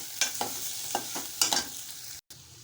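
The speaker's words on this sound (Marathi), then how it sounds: "आता मिश्रण छान मी एकजीव करून घेत आहे" A spoon scrapes and stirs a boiled-potato bhaji mixture with turmeric and salt in a pan for bread pattice, several distinct soft strokes over a faint sizzle, then a brief drop to silence.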